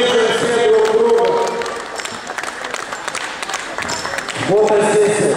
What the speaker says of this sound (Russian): Хлопаем, аплодируем, ребята.